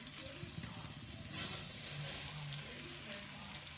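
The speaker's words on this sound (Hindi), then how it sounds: "हल्का सा इनको भून लेंगे मक्खन में पहले" Vermicelli (seviyan) frying lightly in butter for sheer khurma: a quiet, steady sizzle with soft stirring noises, low in level, while a person talks over it.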